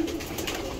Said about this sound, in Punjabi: ਇਹ ਕਬੂਤਰ ਆ ਜੀ